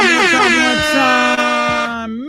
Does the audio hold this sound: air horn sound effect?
yes